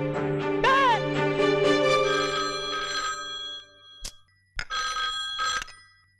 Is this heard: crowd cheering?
no